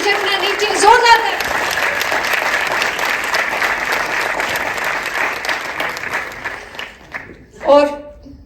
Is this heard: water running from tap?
no